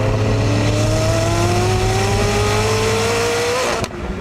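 McLaren 675LT engine revving hard under throttle, a loud close sustained roar with pitch climbing steadily for several seconds before cutting off abruptly near the end.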